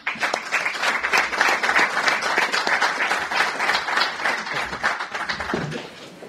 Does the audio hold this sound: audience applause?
yes